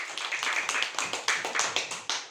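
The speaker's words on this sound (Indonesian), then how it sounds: "Kasih tepuk tangan sekali lagi untuk Arga." A classroom of students claps for one student, a short burst of quick, uneven, fairly close hand claps with a light rhythmic patter.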